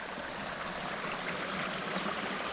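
A small mountain creek on the Mt. Hood Timberline Trail rushes in a steady, close, broadband wash of flowing water with no voices.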